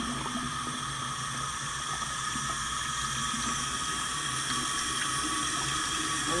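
Water runs steadily from a shower head, a constant close splashing rush that holds level throughout, with no voices.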